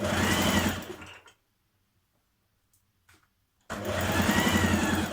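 A sewing machine runs fast, stitching a seam on a playsuit made from a refashioned duvet cover: a loud, steady whirring burst stops, a couple of faint clicks follow in silence, then a second run starts up just as loud.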